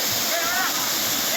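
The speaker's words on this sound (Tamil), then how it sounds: "இது வந்து சீசனபிள் வாட்டர் ஃபால்ஸ் தான்." Seasonal waterfall at Chinnathoomkal, a steady broadband rush of falling water that holds even and continuous throughout, with faint indistinct voices mixed in beneath the roar.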